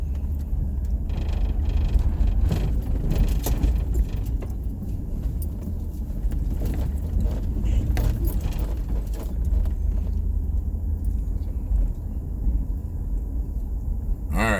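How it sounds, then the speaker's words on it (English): Several cars roll past nearby in a steady, continuous low rumble of road traffic, with a faint jingle like keys over the top and no clear speech. "Look at all these motherfucking cars in here all of a sudden."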